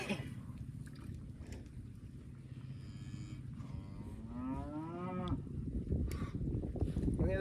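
A cow moos once, a drawn-out call rising and falling near the end, on a working cattle ranch during an outdoor tour, with wind and faint background noise before it.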